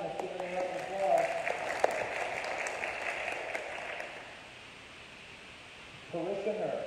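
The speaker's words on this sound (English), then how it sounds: "Let's give it another applause" Moderate audience applause after a correct word at a spelling bee, steady at first, then thinning and fading away, with voices heard near the start and end.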